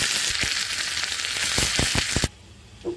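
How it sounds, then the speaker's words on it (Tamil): Mustard seeds sizzle and pop loudly in hot oil in a pan for Tamil green dal kulambu, with sharp crackles over a bright hiss that cuts off abruptly near the end; no one speaks. "கொஞ்சம் எண்ணெய் வச்சு சூடாகிக்கிட்டு இருக்குது. இப்போ கடுகு போடுறேன்."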